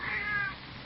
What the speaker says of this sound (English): What do you mean you heard a cat?